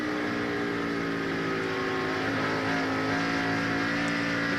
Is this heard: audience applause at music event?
no